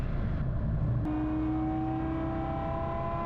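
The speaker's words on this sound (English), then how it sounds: "there's a little button on the stick I'm going to push that starts that rotor blade spinning up there" Gyroplane rotor blade spinning up under a motor drive, a steady close mechanical whir and hum with a rising tone that settles into a sustained drone.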